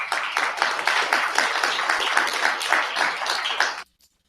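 Dense audience applause follows a speaker on a news talk program, a steady wash of many hands clapping at close range for nearly four seconds before cutting off abruptly.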